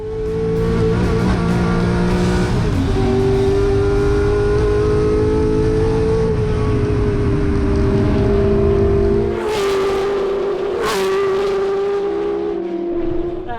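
A classic race car engine roars continuously at high revs during a qualifying lap at Goodwood, with pitch climbing through gear changes and a brief dip near the end, loud and close.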